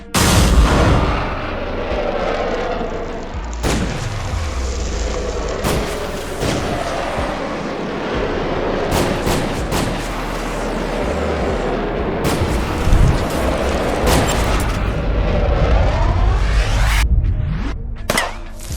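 Gunfire and heavy booms from an animated action series, loud bursts and impacts recurring throughout over a dense, busy soundtrack.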